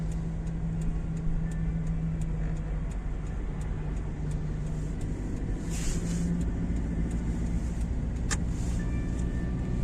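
A car drives a city driving-exam route in Sumy at dusk, with a steady low engine and road rumble heard from inside the cabin and a faint regular ticking, like a turn signal, running throughout.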